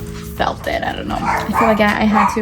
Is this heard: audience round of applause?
no